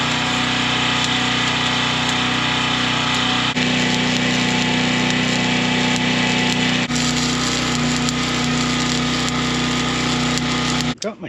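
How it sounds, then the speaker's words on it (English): Welding hinges onto a dragging gate, a loud continuous crackling buzz held steady for about eleven seconds with brief breaks, close to the microphone, ending abruptly. "Let's go ahead and finish welding those hinges."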